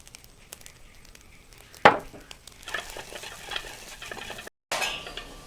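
Rice and vegetables stir-fry in a pan for Chinese-style fried rice, with soft sizzling, one sharp metallic scrape of a utensil, then busier scraping and tossing, and a brief cut-out near the end.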